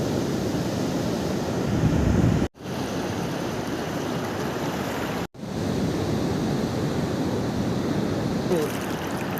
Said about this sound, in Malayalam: നല്ല നല്ല തിരയാണുള്ളത്